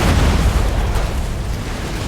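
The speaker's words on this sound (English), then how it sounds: "This is point blank fire between these steam tanks here" Steam tanks trading point-blank cannon fire in a Total War: Warhammer battle, a heavy continuous rumble of booming blasts and bursts packed closely together, loud and bass-heavy throughout.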